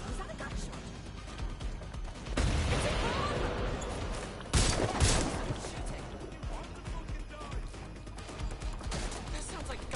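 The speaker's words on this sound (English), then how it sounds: "That sounds like gunfire" Gunfire in the Watch Dogs Legion video game, bursts of shots with a louder volley in the middle over a busy, noisy game backdrop; voices talk over it.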